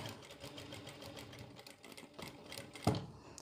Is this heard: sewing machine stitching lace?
yes